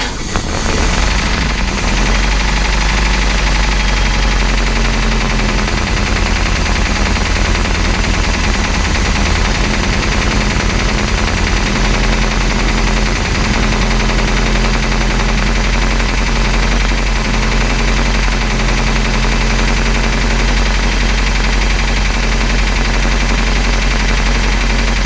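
A long-idle 454 boat engine cranks and runs with a loud, dense, rapid mechanical clatter and heavy low rumble, continuing steadily for about twenty-five seconds.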